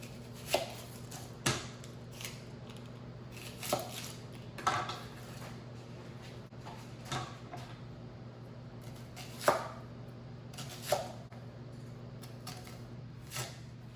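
Red and white onion chopped on a cutting board, sparse sharp knife knocks spaced a second or more apart over a low steady hum, fairly quiet.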